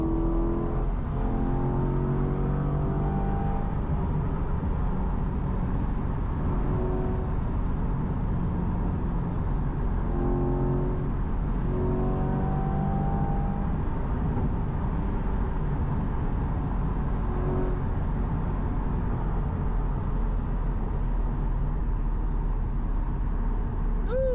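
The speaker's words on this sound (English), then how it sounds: "feel the torque of that Chevy motor." A Chevy V8 in a Corvette pulls hard under acceleration, a loud continuous engine roar with rising harmonic sweeps as it climbs through the gears, heard from inside or close by, with no talk over it.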